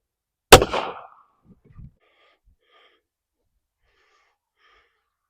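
A single close, loud 9mm pistol shot from a Winchester 147 grain round fired into a meat target, a sharp crack that decays quickly, followed by brief faint rustling.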